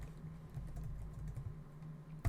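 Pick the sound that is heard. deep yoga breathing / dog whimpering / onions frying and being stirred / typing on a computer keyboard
typing on a computer keyboard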